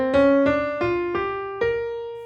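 A piano plays a pentatonic scale with a chromatic passing tone, five separate struck notes stepping upward in an uneven rhythm, each decaying cleanly in a quiet room.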